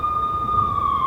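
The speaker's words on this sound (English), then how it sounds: "I could hear the sirens. Their wail was a crescendo." A steady, high police siren tone in Max Payne holds loud and close over a low rumbling background, with no voices.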